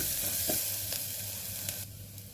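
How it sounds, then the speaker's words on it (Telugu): A spoonful of ginger garlic paste fries in a pan, hissing in a loud, steady sizzle close by, with a few light stirring taps and the frying easing slightly near the end. "ఒక స్పూన్ అల్లం వెల్లుల్లి పేస్ట్ వేసుకొని మంచిగా పచ్చివాసన పోయేంత వరకు వేయించుకోవాలి"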